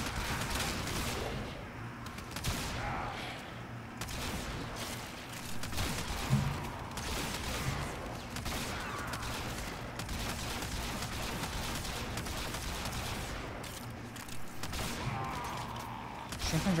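Kitgun fired in a video game, steady bursts of rapid gunshots repeating throughout at a fairly low, even level, with occasional louder cracks and no talking.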